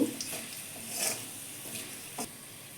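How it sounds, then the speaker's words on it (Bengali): Caraway seeds tempering in hot oil make a soft, close sizzle broken by a few quick stirring scrapes and light pops. "সাহাজিরা ফোড়ন দিলাম ও করে আমি একটু ভেজে নেব"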